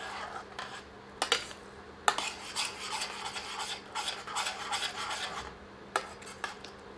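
Spinach paste being worked into masala in a pan for aloo palak, heard as close, steady scraping and rasping of a utensil against the pan, with sharper clinks of metal at intervals.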